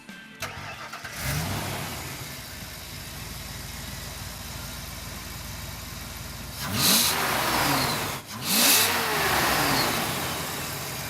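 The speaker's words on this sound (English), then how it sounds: "After a thorough inspection, we listen to the engine." A 1976 Ford Bronco engine turns over and settles into a rough idle, then revs loudly twice in quick succession, close by.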